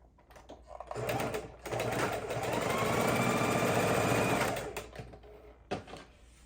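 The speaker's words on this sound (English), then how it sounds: "Now we're going to lay these in half and sew these together." A sewing machine stitches quilt block triangles together for a pinwheel quilt, its motor whirring in a steady, close run of about three seconds, building up and then slowing to a stop with no voices.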